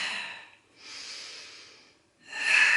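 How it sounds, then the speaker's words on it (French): Breathing during a waist-slimming workout exercise: three strong breathy exhales and inhales with short pauses between them, close and airy, with no talking. "j'expire."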